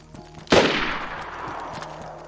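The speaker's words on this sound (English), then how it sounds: "I think that's where the shots are coming from." A single loud gunshot rings out in the survival video game DayZ, with a sharp crack followed by a long fading echo and no talk.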